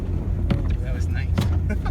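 A Subaru Impreza wagon plows through deep snow, its engine droning low while crunching, whooshing bursts of snow hit the body, with people talking inside the car over the noise.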